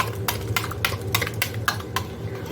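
Egg and goat brain are whisked together in a bowl, a quick rhythmic run of utensil clacks and wet beating strokes, close and steady with no talking.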